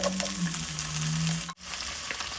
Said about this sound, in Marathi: यात आपण शेवग्याची शेंग परतून घेऊया